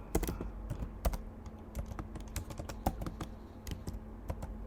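Fast typing on a computer keyboard, a close, continuous stream of crisp key clicks with uneven rhythm and no voices.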